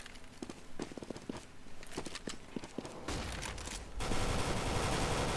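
Gunfire in a professional Counter-Strike match on the cbble map, with a player firing while flashbanged, sounds as a series of sharp single shots and short bursts, followed by a louder sustained noisy wash.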